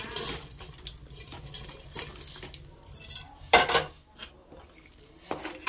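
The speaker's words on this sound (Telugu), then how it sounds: "ఇప్పుడు ముందుగా వేయించి పక్కకు తీసి పెట్టిన చికెన్ అయితే వేసుకుందాం." Fried chicken pieces being stirred into chicken pickle in a pan, with scattered metallic scrapes and clinks of a utensil against cookware and one sharper clatter near the end, heard close and at moderate level.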